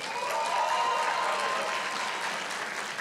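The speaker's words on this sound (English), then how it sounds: "Maybe let us applaud all the other learners who are here today." A hall audience at a school challenge winners' announcement applauds the other learners, a continuous even wash of clapping at moderate distance.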